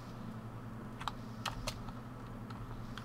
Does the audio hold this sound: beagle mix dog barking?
no